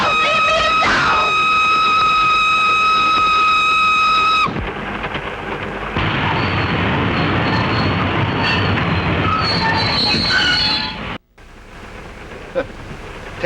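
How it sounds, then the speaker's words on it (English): A passenger train runs along the rails with a steady, loud rumble, preceded by a high sustained whistle-like tone that cuts off abruptly; no voices. "For heaven's sake, stop this train."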